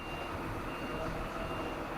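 A forklift reverses while unloading Formula 1 cars, giving a steady, faint repeating beep over a low engine rumble and hum, with no voices.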